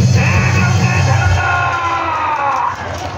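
A crowd at a public event honouring the marines cheers loudly, with yells and whoops rising together in a dense, sustained roar before it thins out near the end.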